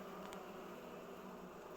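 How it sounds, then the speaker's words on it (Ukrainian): Honeybees from aggressive, hungry colonies at an abandoned apiary make a steady, dense buzz that holds even throughout, fairly faint and with no voices over it. "І такі бджоли агресивні"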